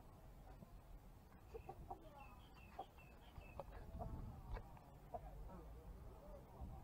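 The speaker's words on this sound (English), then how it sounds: "Why a rooster there, I don't know" A rooster in Thailand gives scattered, fairly close clucks and short calls, with soft background noise and people talking nearby.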